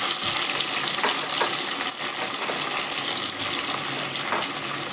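Onions sautéing in a pan for Tamil brinjal kuzhambu, along with garlic, a loud continuous sizzle close by with occasional scraping stirs, and no voices.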